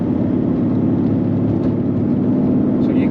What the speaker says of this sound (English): a taste of the tone of the exhaust. That's with the cutouts open.